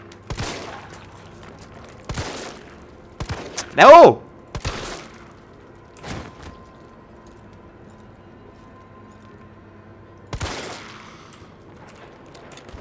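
Gunfire shooting at zombies in the Resident Evil 3 video game: several separate shots and short bursts spread across the span, one louder burst in the middle, with a voice briefly shouting.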